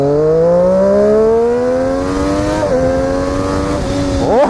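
Triumph Daytona 675 R motorcycle from 2014 revving up, its engine roar climbing steadily in pitch, briefly dipping near the end and then snarling again, loud and close with no talk.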